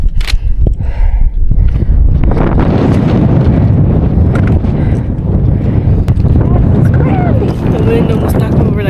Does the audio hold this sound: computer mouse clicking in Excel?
no